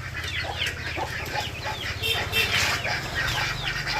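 Native village chickens, including black-feathered hens, chicks and nearby ducks, cluck steadily in a backyard coop, with overlapping calls over a constant low hum.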